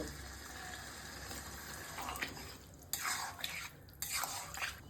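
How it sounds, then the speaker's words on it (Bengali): Water pours into a pan of fried prawns, fried potatoes and ridge gourd, a faint gushing and splashing in a few short bursts over a steady low background. "এর মধ্যে আমি এবার একটু জল দেব।"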